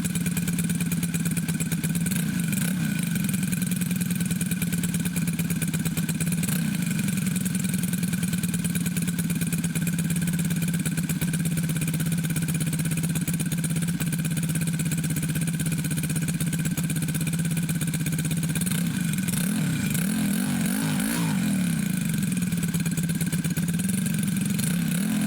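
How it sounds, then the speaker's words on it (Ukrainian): A T-150 tractor engine runs steadily at close range, a loud continuous mechanical drone with clatter, rising in brief revving surges near the start and again around the twentieth second as the carburettor is opened, with no talk. "Двигун миттєво реагує на відкриття карба."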